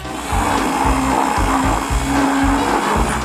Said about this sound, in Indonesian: Satu sendok es krim dalam blender dan sedikit mustard sudah cukup.